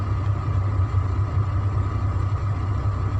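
A Shacman F3000 truck engine runs at a steady idle, giving a continuous deep, rumbling drone with a faint mechanical clatter. It stays close and constant, with no talk over it.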